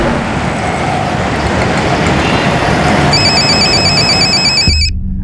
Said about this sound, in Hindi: अरे बल्लू, ज़रा फ़ोन देख तो।